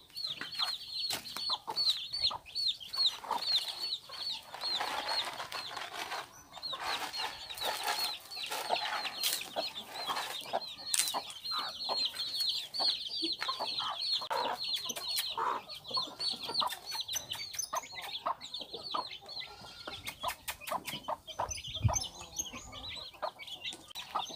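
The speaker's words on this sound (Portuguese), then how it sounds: "vou botar ali comida para as outras galinhas" Farmyard chickens cluck and chatter as they are fed at sunset, a busy flock making constant overlapping calls at close range, with occasional louder squawks and some handling noise near the end.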